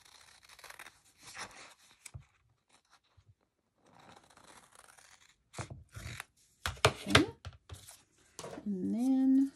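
Scissors snip through cardstock for a Halloween card, with a few quiet, sharp cuts clustered together amid soft paper handling and other faint crafting noises.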